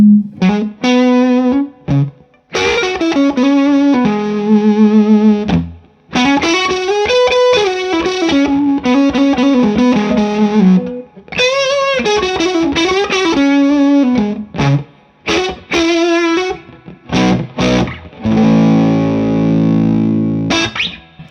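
Electric guitar through a thick, buzzy germanium fuzz pedal, playing loud sustained notes and bends in phrases with short pauses between them.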